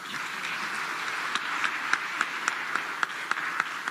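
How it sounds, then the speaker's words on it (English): An audience at the AFRICA50 general shareholders' meeting in Tanzania applauds after a speech: a steady wash of clapping with sharp, distinct individual claps growing more prominent toward the end. "A round of applause to Our Excellency Dr. Samiasuluhuhassan, the President of the"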